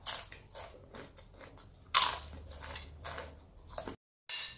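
Crunchy kerupuk crackers being bitten and chewed up close, a string of sharp crisp crunches in an irregular rhythm, loud and dry, with a brief silent gap near the end.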